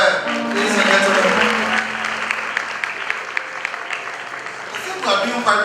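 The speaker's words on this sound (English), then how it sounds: "Another round of applause for her, ladies and gentlemen." A crowd at a graduation ceremony breaks into loud, sustained applause. Clapping fills the space steadily and fades slightly near the end, with faint voices underneath.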